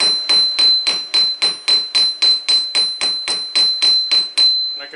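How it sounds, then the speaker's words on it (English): Hammer blows on hot steel over an anvil while forging a taper, a steady run of about fifteen close, loud, ringing strikes at an even rhythm, each with a bright metallic ring. "You can hear the return coming back from the anvils getting a little louder."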